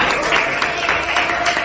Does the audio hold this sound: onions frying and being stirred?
no